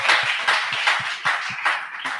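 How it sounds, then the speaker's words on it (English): A small group claps in a steady, fairly slow rhythm at a music event, honoring parents, with evenly spaced near claps and no voices. "I want us to give mommy and daddy a big round of applause."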